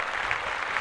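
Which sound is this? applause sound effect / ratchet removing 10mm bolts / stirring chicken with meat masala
applause sound effect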